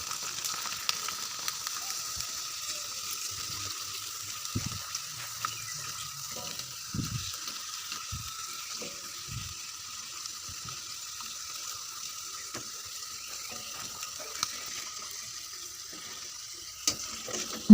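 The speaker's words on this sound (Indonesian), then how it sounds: "Kita goreng kerupuk pulinya di minyak panas ya, supaya bisa mekar maksimal." Kerupuk puli crackers fry in hot oil with a steady, even sizzle. Scattered low pops and bubbling sit under the hiss. Nobody speaks.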